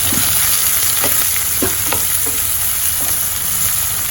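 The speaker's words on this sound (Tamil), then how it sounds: "இப்போ இது வதங்குற நேரம்" Onions sautéing in a pan for hotel-style parotta salna give a loud, continuous sizzle and crackle, with a few soft spatula scrapes breaking through, close up and without voices.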